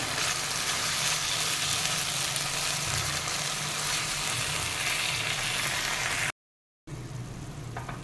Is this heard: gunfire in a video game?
no